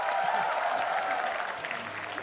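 Studio audience applause at an Indonesian Metro TV talk show, a brief, even wash of clapping heard from a distance.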